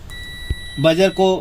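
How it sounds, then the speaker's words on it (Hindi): A multimeter set to buzzer mode gives a steady, clear electronic beep while testing a shorted component near the main processor IC on an LED TV board. Speech follows right after the tone. "मीटर को बजर मोड पे रखें और चेक करें"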